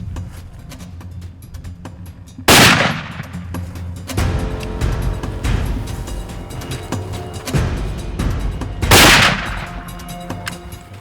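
Two loud rifle gunshots during a hunt in Tanzania, one early and one near the end, each sharp crack trailing into a ringing decay over constant outdoor rumble and engine-like noise, with no voices.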